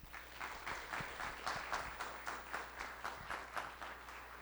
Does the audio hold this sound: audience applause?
yes